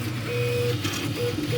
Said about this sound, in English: Model is ready, let's print it.